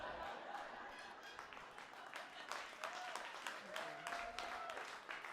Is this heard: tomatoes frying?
no